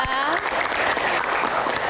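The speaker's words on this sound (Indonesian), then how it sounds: "Tepuk tangan untuk Kang Maman, Mas Hindu dan Dian dan teman-teman semuanya." A studio audience of university students applauds on a television talk show, a loud continuous wash of clapping with a voice speaking over it.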